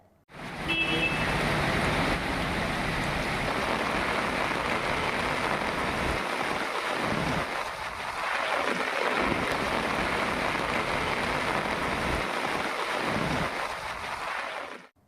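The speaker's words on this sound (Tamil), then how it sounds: "இன்று இடியுடன் கனமழை பெய்தது" Heavy thunderstorm rain pours onto roads in the Vedaranyam area of Nagapattinam district, India, with floodwater on the streets. A dense, steady roar of rain and splashing runs throughout, with passing vehicles swelling the noise now and then.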